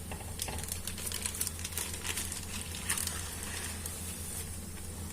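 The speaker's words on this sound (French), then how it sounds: "Et là, je vais commencer à enlever mon papier." Baking paper being peeled slowly from a thin crêpe cooking over very low heat, a soft crinkly crackle and faint tearing rustle running continuously at close range.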